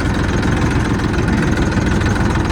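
A tractor engine running steadily at night, a loud, close, continuous rumbling drone with rattling vibration and no voices.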